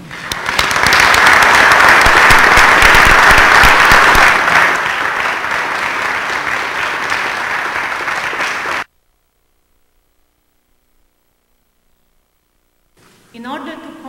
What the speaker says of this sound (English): please give a round of applause to the brave defenders of our beloved Poland.